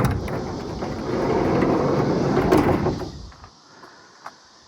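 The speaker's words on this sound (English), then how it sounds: "we're going to open up the sliding door" The sliding side door of a 1989 Ford Econoline E-350 van rolls open with a long rumbling slide lasting about three seconds, then stops, followed by quiet and one small knock.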